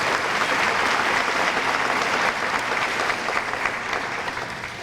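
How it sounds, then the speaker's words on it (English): Steady applause from a crowd at a Hall of Fame fundraising gala, dense clapping from many hands sustained at even strength for several seconds, easing a little near the end. "So that deserves a round of applause"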